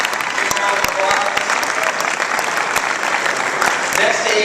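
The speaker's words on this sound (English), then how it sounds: "Big round of applause." A panel audience at a Hispanic Caucus event breaks into loud, sustained applause, dense overlapping claps with sharper individual hits, and crowd voices murmuring underneath.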